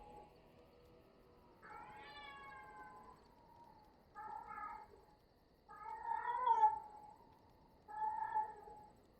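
A deaf house cat meows four times, close and fairly loud, in drawn-out, wavering calls with short pauses between them against a quiet room.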